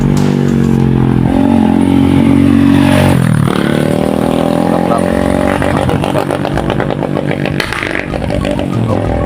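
A motorcycle engine revs and roars close by, loud and steady, with a rising and falling pitch as it passes.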